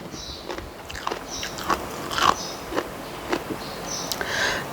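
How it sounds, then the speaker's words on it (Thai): Close-up eating of rice kneaded with fermented fish sauce (pla ra), served with omelette and fresh vegetables: moist chewing with crunchy bites and occasional sniffs, no talking. "ชอบมาจ้ะกินข้าวกันค่ะ"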